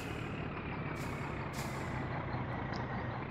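Heavy truck maneuvering in the My Summer Car video game, a steady loud engine rumble throughout with two short hissing air-brake bursts and a faint high beep near the end.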